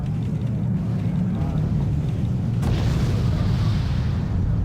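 Heavy bombs from a Tornado jet exploding in Wargame: Red Dragon, a loud low rumbling boom with a sharp blast onset partway through, rolling on under a steady, dense low-end roar.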